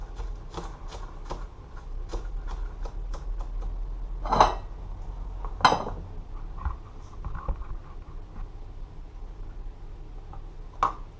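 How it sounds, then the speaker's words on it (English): A knife chops scallion and other seasoning for a Jamaican salt mackerel rundown, a steady run of light taps on a board with a few louder knocks, close by. "going to cut up all my seasoning for my rundown"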